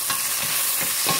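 Sliced onion, with a little mint, fries for chicken biryani: a dense, continuous sizzle with scraping stirs, close and fairly loud, with no voices.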